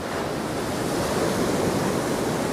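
Sea surf breaks on the North East coast at Hendon Prom after Storm Darragh: a constant, loud wash of white water under a breeze, with no voices.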